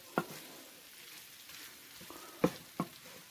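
Trader Joe's orange chicken frying in a pan, a faint steady sizzle under three sharp scraping knocks of a utensil as it gets stirred, with no talk.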